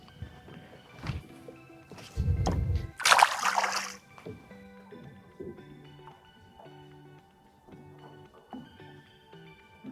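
A short, heavy splash around the three-second mark as a crappie is released back into the water by a boat, followed by gentle sloshing water over a low engine hum.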